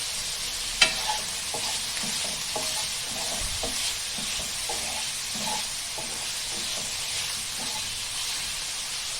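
Chicken breast frying in olive oil with garlic and spices gives a steady, close sizzle and hiss, with light scraping and stirring knocks scattered throughout and no talking.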